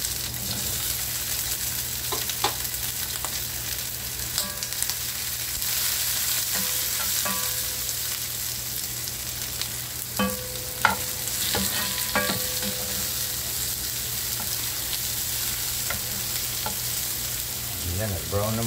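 Garlic, onion and tomato sizzle steadily in a hot pan for a fish soup with vegetables, a constant frying hiss broken by occasional scrapes and clinks of a stirring spoon, close and alone with no talk.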